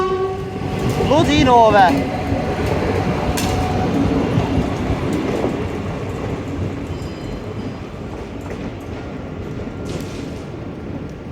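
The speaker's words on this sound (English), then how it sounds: "There goes a empty stock 446, I'm gonna guess." An empty stock Class 446/447 train passes close by, opening with a loud two-tone horn blast, then a long rolling rumble and clatter of wagons that slowly fades, with a brief spoken exclamation near the start.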